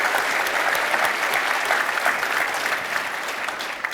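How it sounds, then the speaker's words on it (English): Steady, dense applause from a large audience at a tech conference keynote, sustained throughout and tapering slightly toward the end. "Let's give them a round of applause."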